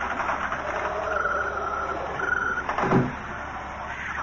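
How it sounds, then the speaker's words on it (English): A door shuts in a radio drama: a short sliding scrape followed by a dull thump near the end, heard over a steady hum from old, worn audio. "Allow me to close the door, sir."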